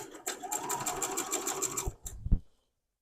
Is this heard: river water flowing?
no